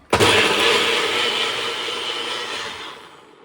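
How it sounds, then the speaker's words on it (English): A blender purees cashew ginger red lentil soup with coriander, sea salt, pepper and water, a loud steady whirring roar that starts abruptly and runs continuously, easing slightly toward the end. "Then I'm going to blend it for about a minute."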